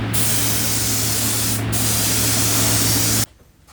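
A steady, loud hiss of grey primer sprayed from an aerosol can onto a Moto Guzzi Mk1 part runs continuously for about three seconds with a brief dip, then cuts off abruptly.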